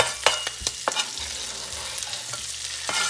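Garlic frying in a pan with shrimp, a soft sizzle broken by quick spatula scrapes and stirring clicks, close and without voices.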